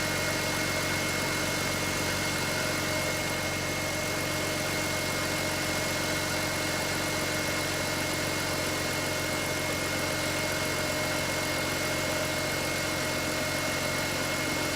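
A BMW X3 E83 engine idles steadily after an oil leak repair, a constant even hum and drone with no variation and no voices.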